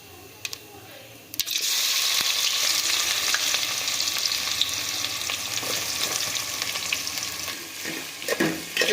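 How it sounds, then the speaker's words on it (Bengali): Chopped onions drop into hot mustard oil already tempered with cumin and dried red chillies, setting off a loud, steady sizzle that holds for the rest of the clip, with faint stirring clicks near the end. "এবার এর মধ্যে আমরা দিয়ে দিচ্ছি কেটে রাখা পেঁয়াজগুলো।"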